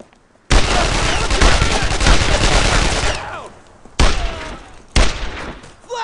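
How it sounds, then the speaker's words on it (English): Bursts of machine gun fire in the World War II shooter Brothers in Arms: Road to Hill 30: one long, loud sustained volley, then two shorter sharp bursts, with faint shouted voices in the background. "Machine gun!"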